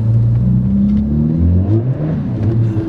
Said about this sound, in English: The wheels are just spinning.